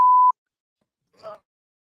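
Alarm from an office building fire alarm: one loud, steady electronic beep lasting about a third of a second, then silence apart from a brief faint murmur.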